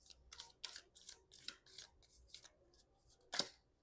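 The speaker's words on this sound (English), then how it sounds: "now let's shuffle for the month of October." Oracle cards being shuffled by hand, a series of crisp papery riffles and snaps in an uneven rhythm, close and fairly quiet, with no talking.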